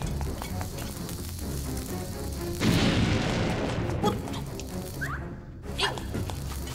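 Bombs explode in The Legend of Zelda: Link's Awakening inside the Catfish's Maw dungeon. One loud, sizzling blast bursts in partway through, a fainter pop follows a few seconds later, and game music and effects play underneath.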